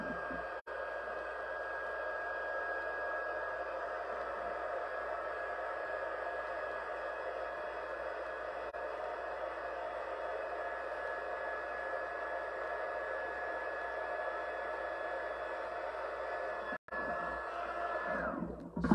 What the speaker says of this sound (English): I'm going to do this with the heat gun